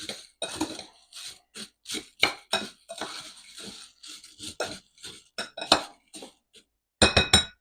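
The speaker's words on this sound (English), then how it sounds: "just come in here and hit them with this back of this spoon" The back of a spoon strikes cheesy potatoes in a pan on a drum smoker in a quick series of sharp, close clinks and taps, irregularly spaced across several seconds, with no talking.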